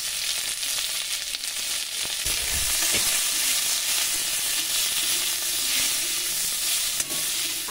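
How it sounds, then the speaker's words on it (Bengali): Diced potatoes seasoned with turmeric and salt fry in a pan of oil, giving a constant close sizzle with occasional stirring scrapes and a soft clunk near the end, and no one talking. "আলুটা ভাজা ভাজা করে নিয়েছি।"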